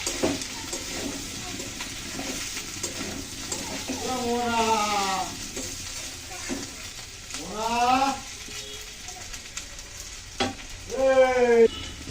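Cauliflower and potato frying in a pan, to be finished with egg, give a steady close sizzle throughout while a voice talks over it now and then.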